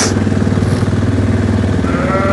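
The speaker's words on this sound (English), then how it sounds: "he's driving the new quad, he'll crash it" A new quad bike on a sheep farm drives off in bad weather, its engine droning loud and steady and close by, while sheep and lambs bleat around it.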